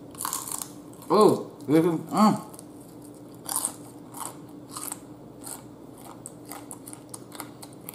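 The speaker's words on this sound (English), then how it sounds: "Do y'all hear that crunch?" Three loud crunchy bites into a Taco Bell rolled fried chicken taco in quick succession, followed by softer chewing and a brief voice.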